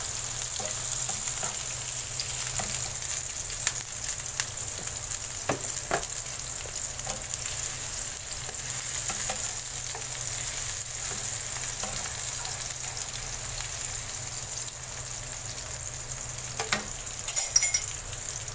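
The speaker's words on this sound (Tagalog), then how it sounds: "magigisa lang tayo ng sibuyas" Onions and garlic sauté in a pan, giving a steady close sizzle throughout with occasional light stirring scrapes and clinks. No voices are heard.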